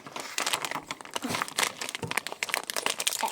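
A snack wrapper crinkles and crackles close up as it is torn open, with irregular bursts of crisp rustling and little pause between them.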